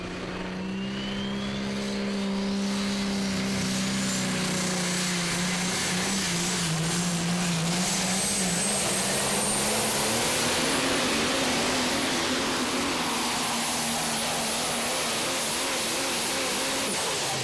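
Drag racing cars speed down the track, a loud sustained engine roar with rising pitch sweeps as they pull away into the distance.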